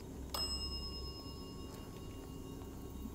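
A single bright bell strike rings out once during a paranormal investigation at Vasai Fort, its clear tone decaying slowly over a quiet background hum.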